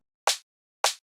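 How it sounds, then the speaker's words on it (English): Two short, crisp snare drum sample hits from a house music sample pack, each a sharp bright crack with a quick decay, evenly spaced and alone against silence. "And the snare sounds like this."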